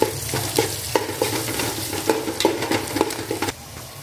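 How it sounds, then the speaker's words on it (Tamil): Green chilies, curry leaves, ginger and garlic sauté with onions in a pan, a steady sizzle broken by repeated clinks and scrapes of stirring. "இந்த பச்சை மிளகாய், கருவேப்பிலை, இஞ்சி பூண்டு இதெல்லாம் வந்து இதில் போட்டு வதக்கிக்கோங்க."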